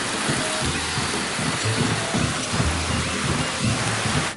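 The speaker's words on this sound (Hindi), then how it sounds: "इतनी बारिश हो रही है।" Heavy rain pours down steadily in a dense, continuous hiss, with low rumbling beneath it and no voices.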